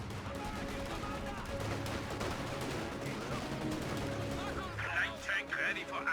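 Browning heavy machine gun bursts in Company of Heroes 2, a dense layer of rapid gunfire and battle noise with other weapons under steady commentator talk, busier rattling bursts toward the end.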